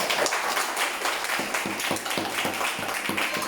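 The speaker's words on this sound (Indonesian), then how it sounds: "Terima kasih tepuk tangan yang meriah buat kita semuanya" Fourth-grade children applaud at a school viewing session, their claps falling in an uneven, loosely rhythmic patter that stays moderately loud throughout.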